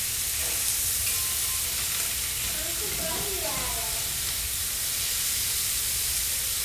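Chicken frying in a pan for taco filling, a steady broadband sizzle and hiss with faint clinks of a utensil in the middle.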